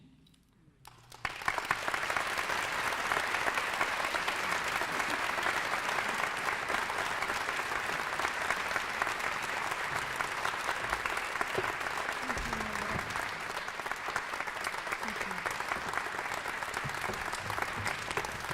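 Sustained audience applause at a literary award ceremony, the 2008 Dayton Literary Peace Prize in Fiction, rising suddenly after a second of quiet and holding steady and loud for the rest of the stretch.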